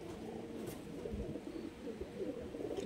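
Pagla line pigeons cooing softly in a loft, low murmuring calls repeating under steady background noise, fairly faint and unhurried.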